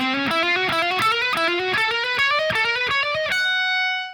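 An electric guitar with heavy distortion plays a fast lick, quick repeated picked notes climbing steadily in pitch before a final note rings out and fades, loud and alone.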